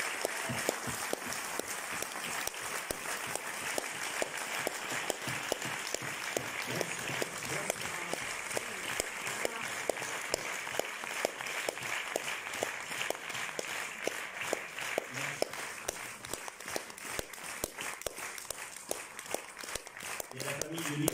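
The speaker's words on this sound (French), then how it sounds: "je vous demande d'applaudir très très fort Lilou Fogli et Clovis Cornillac" Audience applause at a French film premiere, continuous loud crowd clapping throughout, with voices faintly audible beneath it.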